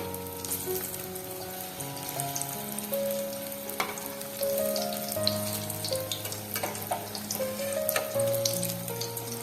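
Continuous crackling sizzle of jackfruit cutlets deep frying in oil, close up, with steady bubbling and occasional pops.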